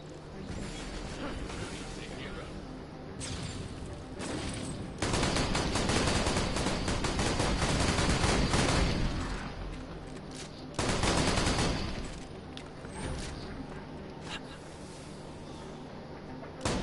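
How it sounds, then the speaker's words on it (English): Automatic gun in Borderlands: The Pre-Sequel firing at maximum fire rate, dense rapid bursts of gunfire with mechanical clatter, the loudest stretches in two long volleys, no talk. "You can hear the difference in the way the gun sounds when you're actually hitting max fire rate."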